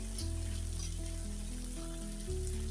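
Spice masala sizzles in hot oil for a Bengali fish curry, a steady soft frying hiss under a constant low humming tone, close and even throughout.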